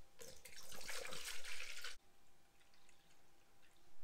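Liquid is poured into the new radiator of a Mazda RX8 drift car, a close, gurgling splash for about two seconds that cuts off into quiet dripping.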